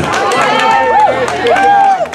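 Crowd cheering at the finish of a 5K race in Greenland, New Hampshire, a dense wash of shouts and cheers that runs steadily under an announcer's voice on a loudspeaker.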